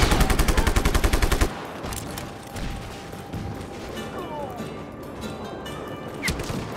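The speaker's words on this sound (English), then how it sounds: "As you can see by those grenades exploding on contact." Grenades go off in the Just Cause video game, starting with a rapid burst of loud gunfire-like blasts, then giving way to rumbling debris, softer impacts and scattered pops.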